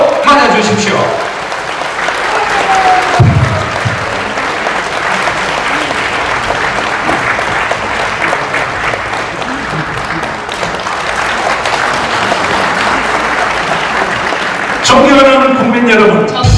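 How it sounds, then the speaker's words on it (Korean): Sustained audience applause at a Korean civic groups' preparatory gathering held in a hotel, loud and continuous clapping from a large crowd lasting over ten seconds, with brief voices and noise at the start and a voice cutting in near the end. "큰 박수로 맞아주십시오."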